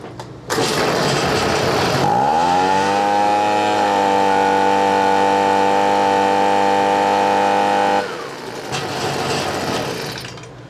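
A Stihl BG55 leaf blower with a plugged muffler starts and runs for several seconds, its small two-stroke engine droning at a steady, strained pitch that never rises to full speed, then cuts off and winds down.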